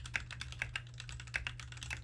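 Fast typing on a computer keyboard during a monkeytype.com typing test, a brisk irregular stream of close, crisp key clicks with a low steady hum underneath.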